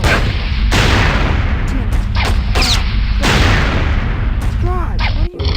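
Rocket launcher blasts and explosions in the video game Postal 3, a rapid string of loud booms and crashes with brief gaps, a voice shouting over them near the end.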